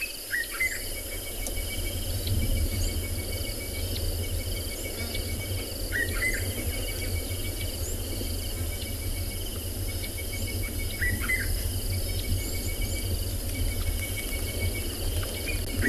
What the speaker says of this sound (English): so many other sounds now in the river with all the birds calling